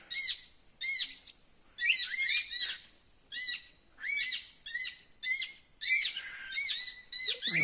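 Anu birds call repeatedly around their nest outdoors, a series of loud, shrill chirping bursts in quick clusters with short pauses, close and clear with no talking.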